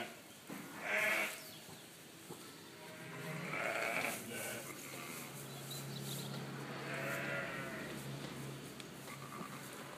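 Charolais lambs bleating in a farm pen while being weighed in a bag: several overlapping, fairly faint bleats and cries over steady background noise, with no talk.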